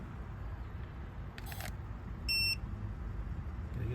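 Smoke or gas detector alarm beeping as a turbo torch flame triggers it during a heating service call; a brief burst of bright, evenly pulsed electronic beeps sounds over a steady low rumble of background noise.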